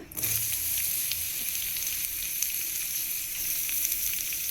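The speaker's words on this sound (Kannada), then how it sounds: "ಹಾಕೊಂಡ್ಬಿಟ್ಟು ಇದಕ್ಕೆ 1 ಈರುಳ್ಳಿನ ಹಾಕಿ ಹುರಿಯೋಣ." Onion frying in a spoonful of oil in a pan, a steady, close, bright sizzle that starts abruptly and holds evenly throughout, with a few faint ticks and pops and no one talking.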